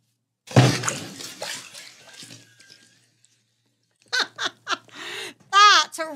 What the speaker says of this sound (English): Look how heavy stuff sinks in water.